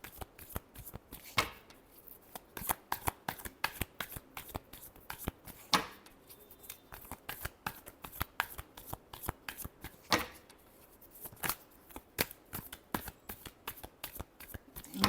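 Tarot cards are shuffled by hand in quick repeated riffles and snaps, a steady run of crisp papery bursts close by in an otherwise quiet room, with no talking.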